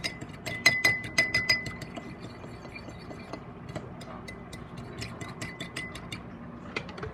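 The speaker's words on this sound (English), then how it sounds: "Just going to whisk that up with a fork." A fork whisks cornstarch into cold water in a glass container, making quick rhythmic clinks and taps against the sides, with a few bursts of rapid strokes and quieter scraping in between.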